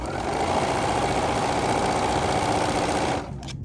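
A sewing machine stitches a pink fabric piece onto a quilt heart, a steady, loud, close mechanical whir that runs without a break for about three seconds before cutting off, leaving a little handling noise.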